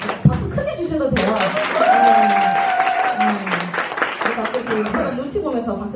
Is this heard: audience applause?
yes